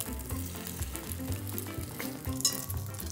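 Thick egg-soaked French toast slices fry in a pan, a quiet steady sizzle and crackle with a low hum underneath, close and without talk.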